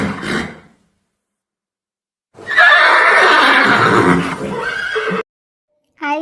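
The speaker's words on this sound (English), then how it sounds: "H for horse." A horse gives a loud, drawn-out whinny lasting a few seconds, with a short burst of sound just before and another at the end.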